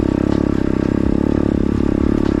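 A cheap Evoque 125cc dirt bike engine drones loud and close while riding single track trails, its steady buzzing rumble holding an even pulsing rhythm with a little clatter from the bike throughout.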